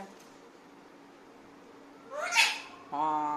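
A single rising cat meow sounds over a quiet background hum, and a person begins speaking right after it.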